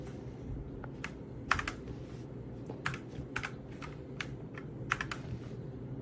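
Keys clack on a Redragon K689 wired gasket-mount RGB mechanical gaming keyboard with 108 keys, a close, quiet run of irregular taps with a few sharper strikes and no talking.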